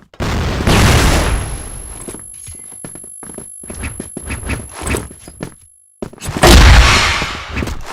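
Flash bombs going off in a close-quarters shooter video game, two loud bursts at the start and end with clattering gunfire and footsteps between them.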